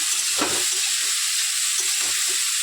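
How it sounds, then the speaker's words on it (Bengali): Potatoes frying in a pan during home khichuri cooking give a steady, close sizzling hiss that runs the whole time, with a few soft stirring knocks and no talk. "এখন আলুটা ভেজে নেবো"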